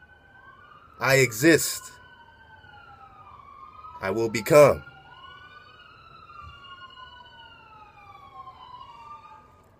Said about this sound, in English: Man, I love those sirens because it's what's really going on.